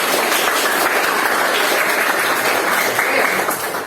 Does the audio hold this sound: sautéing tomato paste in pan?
no